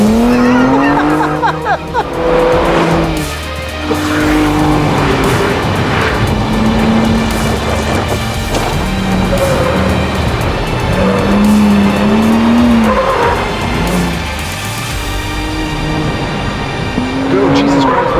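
A Ford Bronco Raptor's engine roars continuously with repeated tire squeals and skids on a dirt trail, loud and close, while a voice talks intermittently over the noise.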